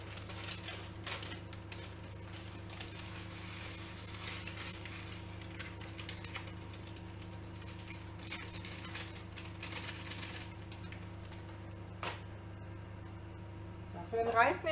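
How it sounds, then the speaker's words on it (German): A multicooker pot sizzles steadily as cooking continues in it, a faint crackling fry over a low electrical hum, with light clicks and a clatter of utensils toward the end. "als nächstes geben wir den Reis und unsere Zwiebelsuppe dazu."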